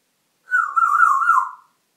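A parrot imitates a siren with a wavering, whistle-like tone that rises and falls for about a second, loud and close against silence.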